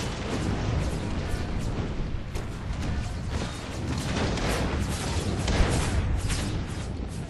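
Cannon and artillery fire from a Napoleon: Total War battle recreating Pickett's Charge at Gettysburg, a dense, continuous rumble of booms and distant volleys with no clear gaps.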